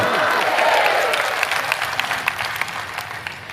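Audience clapping for the gurus during a live devotional sermon, a dense steady round of hand claps from a crowd that gradually thins toward the end.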